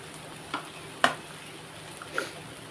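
Soya chunk keema curry fries in a pan, with a low steady sizzle and three short, close scrapes of a spoon stirring, and no talk.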